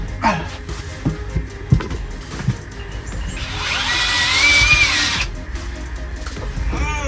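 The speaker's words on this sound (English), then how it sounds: "drill a hole all the way through now from out here" A power drill whines steadily as it bores a hole through an exterior wall for an air compressor install, preceded by a few clunks and handling knocks, loud and close.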